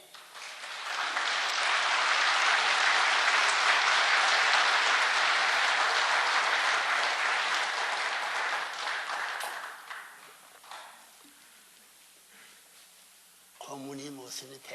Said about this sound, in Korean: 알았으면 박수하지